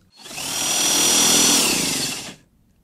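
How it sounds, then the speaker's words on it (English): Power drill boring holes in a homemade wooden sinusoidal stake for anticlastic metal raising, one loud continuous high-pitched whir lasting about two seconds, close up and alone. "So let me drill these holes"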